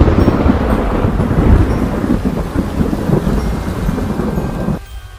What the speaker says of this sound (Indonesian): Suara pintu reot yang bercampur dengan suara hujan menyambut kami di dalam ruangan.